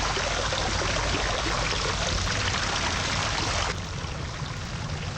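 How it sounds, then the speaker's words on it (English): In the video game Rhem 2: The Cave, water pours from pipes as a loud, steady broadband rush that drops slightly in level partway through and continues without voices. "we've got water flowing out of those pipes"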